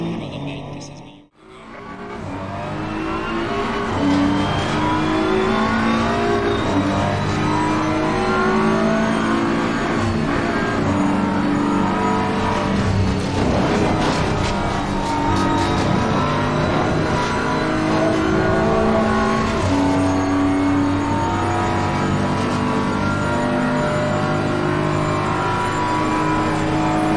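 A Assetto Corsa Competizione race car runs alongside on the left, engine revving and dipping through gear changes with brief tire squeal, loud and continuous over a long stretch, a voice talking now and then underneath.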